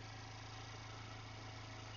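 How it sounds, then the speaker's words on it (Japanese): A used Mazda Roadster 1.5 S with a six-speed manual idles in its engine bay, a steady, even low rumble with a fine rhythmic pulse, close up and uninterrupted, with no voices. "エンジンの方も特に変な音はしていないです"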